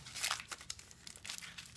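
Hair color foil crinkles and crunches softly as it is folded over a section of hair, a few faint close rustling bursts over quiet room noise.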